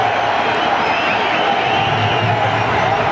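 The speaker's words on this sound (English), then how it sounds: "the Pakistan section of the crowd, they'll all be cheering" A large cricket crowd at an India versus Pakistan match roars and cheers continuously after a wicket, loud and dense throughout with scattered whoops and clapping mixed in.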